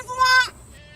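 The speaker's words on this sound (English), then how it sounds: "I think this goat wants to be licked by Sutton Foster as well" A goat gives a short, bright bleat, close and loud, lasting under half a second and then trailing into quiet.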